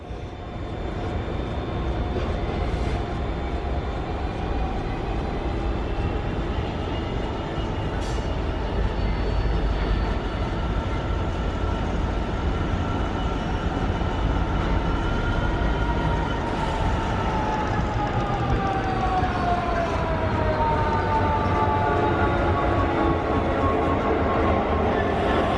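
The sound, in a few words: car-carrying train passing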